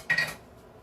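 Metal baking pans clank briefly as they are shifted aside on a kitchen counter, a single close metallic rattle and scrape that fades quickly into quiet.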